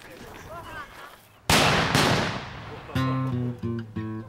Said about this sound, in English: You weren't planning on firing your cannon today by any chance, were you?